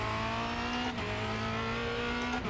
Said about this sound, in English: get down to second. So I'm braking at the 2 marker